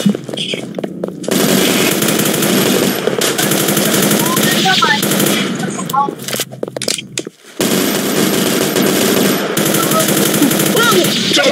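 Gunfire in a Roblox shooter game, loud bursts of rapid automatic shots running in long strings with short pauses between, close and dominant, with brief muffled voice moments in between.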